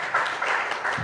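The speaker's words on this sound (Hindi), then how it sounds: "इनके लिए तालियां बजाएं जरा" Audience applause at a standup comedy show, a short burst of dense clapping from the crowd at steady loudness throughout.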